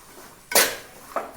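A spatula stirs scrambled egg in a pan, producing two sharp metallic scrapes and clanks, the first louder, over an otherwise quiet kitchen background.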